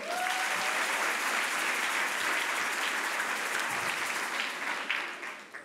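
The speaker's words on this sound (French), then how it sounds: "Vous pouvez l'applaudir." An audience applauds a doctoral candidate at a thesis presentation contest, steady broad clapping that stays loud and even throughout, tapering a little in the final second.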